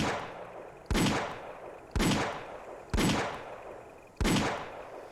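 Gunfire in the video game Arma 3, four loud separate shots spaced about a second apart, each a sharp crack with a short fading tail, with no voices.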